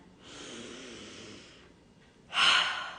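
A person takes a long, slow breath in through the nose that lasts over a second, close and quiet, and after a short pause follows a sharper, louder breath.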